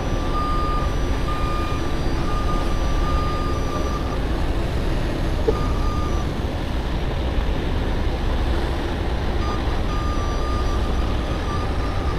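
Reversing beeps from a wheel loader being moved at a refinery ring out as a steady, evenly spaced pulse over a constant engine rumble and site noise.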